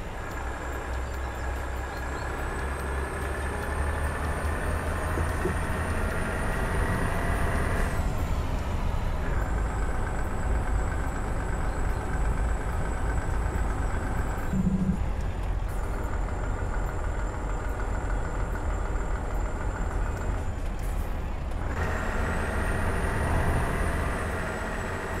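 A Volvo FH truck with nine axles in Euro Truck Simulator 2 runs with its engine brake engaged, giving a steady, loud droning rumble. A high whine holds throughout and drops briefly several times as the pitch shifts.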